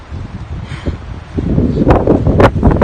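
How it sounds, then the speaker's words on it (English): Strong wind buffets the microphone with rough, gusty rumbling that grows louder midway, mixed with rustling noise, on a cold day on the Pacific Crest Trail near the LA Aqueduct. "Very windy and cold as well"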